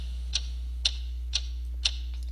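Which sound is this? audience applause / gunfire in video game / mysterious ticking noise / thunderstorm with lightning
mysterious ticking noise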